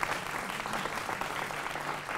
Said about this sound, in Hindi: आपके लिए तालियां बजा रही है यहाँ पर।